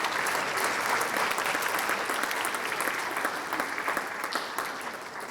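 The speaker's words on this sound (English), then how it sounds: "So if we could give our parents a round of applause too, please" Audience at an honor band concert applauds the parents with a dense wash of clapping that stays loud at first and then gradually thins and fades toward the end.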